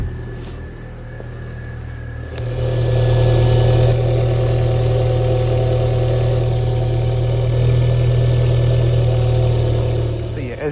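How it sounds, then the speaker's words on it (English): An Audi A3 engine idling up close, a low steady hum that steps up to a fuller, louder idle after a couple of seconds and holds evenly to the end. "I'm gonna start the engine and then try and see where the leak is underneath the car"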